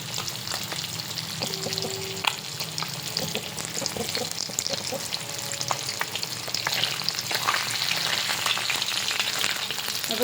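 Chicken frying in a pan in a home kitchen, a continuous close crackling sizzle with occasional stirring clinks and scrapes throughout, steady and fairly loud with no talking.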